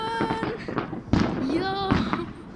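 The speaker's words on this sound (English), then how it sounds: "Yo, so many fireworks." New Year fireworks bursting in a rapid series of sharp cracks and booms, with two especially loud blasts, while people talk and exclaim throughout.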